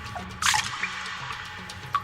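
Water drips in a cave, a few distinct splashy drops at irregular intervals with a quiet, hollow background between them.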